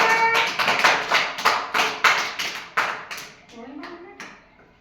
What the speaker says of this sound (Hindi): हाथ पर ताली बजाओ सभी जोर से